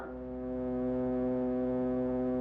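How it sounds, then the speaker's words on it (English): A movie projector motor's steady, low hum drones continuously with rich harmonic tones, swelling slightly at the start and holding even throughout. "there was a motor on a projector, a movie projector"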